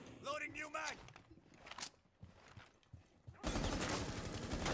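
Rainbow Six Siege gunfire crackles in short bursts between talking voices, ending in a dense sustained volley of shots.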